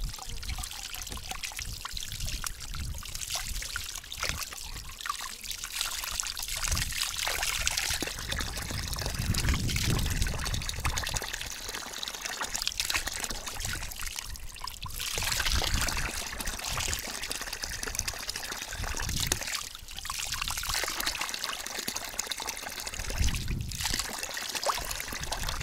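Water runs steadily and splashes while crucian carp are rinsed under it during cleaning, a continuous close pouring and trickling with brief dips, alone without talk.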